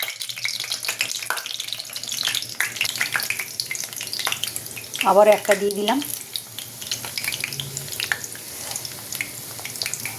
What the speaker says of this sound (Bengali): হালকা আগুনে ভাজতে হবে, তার উল্টে দিয়ে দেবো।